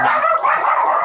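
A dog barks repeatedly in the background, a dense, steady run of barks and yips with no pauses and no talk over it.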